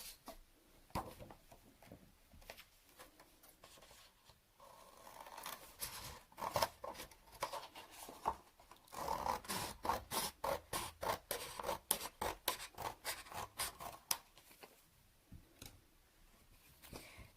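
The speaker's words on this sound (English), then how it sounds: "we're going to draw out the handle of the lantern and cut it out" Drawing on card and cutting out a paper lantern handle with scissors for a children's craft: scratchy rubbing strokes at first, then a long run of quick crisp snipping cuts, close and moderately loud, no talk.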